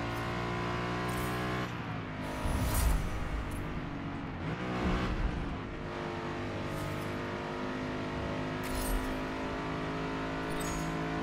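Race car engines roar through a lap in the racing game Forza Motorsport, a steady loud drone with shifting pitch and a few brief surges as gears change, with no voices.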